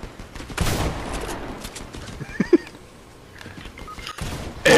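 Gunfire in the video game Fortnite: a few sharp shot bursts spaced a couple of seconds apart, loud and close, with quieter game noise between them.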